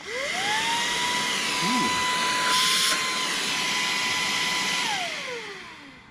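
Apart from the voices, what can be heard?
Moosoo cordless brushless handheld cyclone vacuum cleaner running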